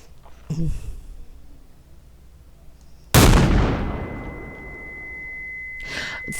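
A single sharp, loud gunshot in the game Mouthwashing, sudden and close, followed by a long ringing decay and a high steady whine; a brief breathy sound comes earlier.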